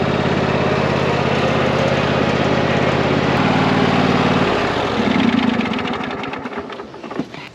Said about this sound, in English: I hook up the wagon to the lawnmower